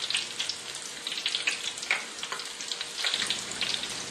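Shrimp patties fry in hot oil in a Chamorro kitchen, giving a steady bubbling sizzle with crackling pops throughout, fairly close and alone.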